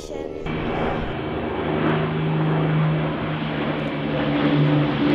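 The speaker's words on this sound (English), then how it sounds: "So now I'm here with Jasmine, who's just been watching the Lancasters fly." Avro Lancaster bombers fly overhead at Birdworld Farnham, making a loud, steady propeller-engine roar with a droning hum that swells and holds throughout, with no talk over it.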